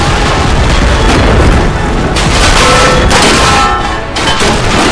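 Artillery explosions in a staged toy war battle, a continuous loud roar of booming blasts with a couple of sharper bursts near the middle, close and filling the scene.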